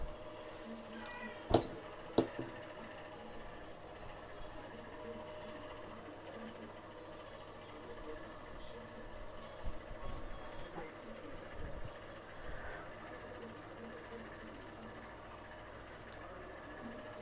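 A rewound three-speed AC fan motor runs on a workbench with a steady, fairly quiet mechanical hum, broken early by a couple of sharp clicks and a few brief knocks later on.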